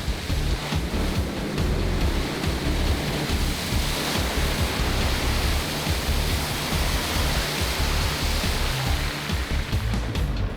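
A 4WD vehicle in second gear low range pushes through a deep water crossing, water surging over the bonnet in a loud, continuous rushing roar with no voices.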